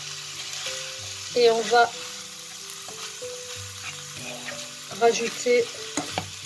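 Leftover chicken fries in a pan, rehydrated ingredients mixed in, with a soft sizzle and a few clattering bursts of stirring as a voice speaks briefly.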